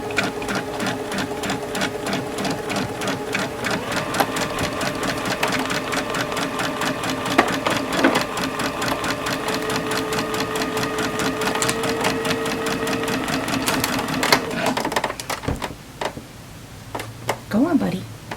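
A domestic sewing machine stitches seams as fabric feeds under the needle, its steady rapid ticking running close and loud for most of the stretch before slowing and stopping near the end, with a voice speaking briefly.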